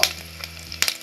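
Jengkol sautéing in hot oil with lemongrass, a steady soft sizzle with short bursts of crackle and a stir near the start and end, close and fairly quiet.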